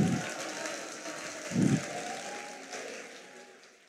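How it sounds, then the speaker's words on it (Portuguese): An audience on a tech conference stage applauds for teachers, a sustained, moderately distant spread of clapping that gradually fades, with a couple of low thumps near the start. "Uma salva de palmas para todos os professores do Brasil."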